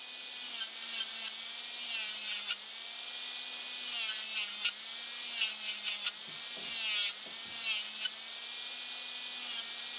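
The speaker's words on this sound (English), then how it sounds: "I'm trying to file on the place where I feel the product is still intact" A hand file rasps across a gel manicure on a fingernail in quick repeated strokes, close and fairly loud, over a faint steady hum.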